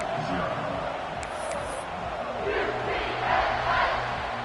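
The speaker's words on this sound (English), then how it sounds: "this crowd is feeling themselves after that last drive" Stadium crowd in a college football video game, SMU versus UCF, roars continuously in a dense, loud wash of cheering, with a commentator's voice running over it.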